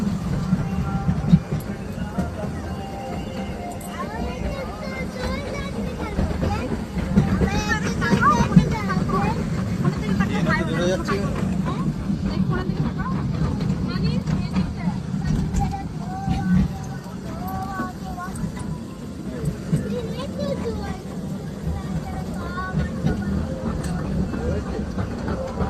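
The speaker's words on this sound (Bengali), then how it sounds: "এখন টয় ট্রেন চড়ছি, টয় ট্রেনে উঠেছি" A toy train at Happy Valley Park trundles along with a low, continuous rumble and rattle, while people talk over it throughout the ride.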